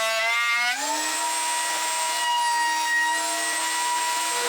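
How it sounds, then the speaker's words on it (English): A planer shaves a wooden cutting board: a loud, close machine whine spins up within the first second, then holds a steady, high-pitched drone throughout. "now that we got the board all planed up"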